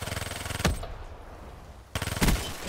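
Vesper submachine gun in Call of Duty: Black Ops III firing two rapid, loud full-auto bursts, each followed by a heavy impact thump, with a short lull between them.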